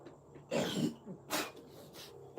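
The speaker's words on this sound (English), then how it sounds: "One thing I do have is a cough today." A person who is unwell with a cough lets out a couple of close, harsh coughs and throat-clearing bursts in quick succession, with no speech.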